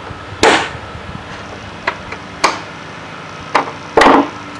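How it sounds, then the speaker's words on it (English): Hammer driving loose nails back into a wooden deck before sanding, heard as five or six sharp, close, separate knocks at an uneven pace with quiet gaps between. "So you just go around and just drive the nails back in"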